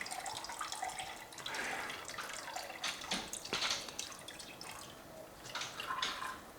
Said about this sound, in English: start with our straining bags, letting as much of it drain off as possible